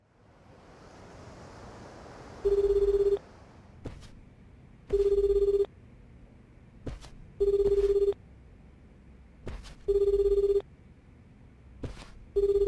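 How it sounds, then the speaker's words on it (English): A phone in the video game Like A Dragon: Infinite Wealth rings in a steady repeating pattern of four electronic trill bursts, each followed by a sharp click, over a constant wash of ocean-like background noise. "Turned off Kiryu-san's phone"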